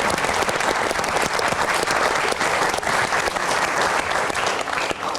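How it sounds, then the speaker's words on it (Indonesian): A studio audience at a Jakarta political talk show breaks into sustained applause, dense and loud, many hands clapping together without pause for several seconds. "Kasih tepuk tangan dulu dong biar semangat menyelesaikannya."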